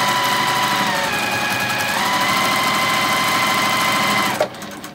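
A sewing machine with a quarter-inch foot joins quilt pieces for a Liberty quilt, running in one steady continuous whir close by before stopping at the end.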